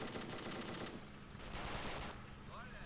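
Machine gun fire in the strategy game Men of War: Assault Squad 2 during an endless defense mission, with rapid rattling bursts that are fairly faint and muffled in a busy mix and fade in and out.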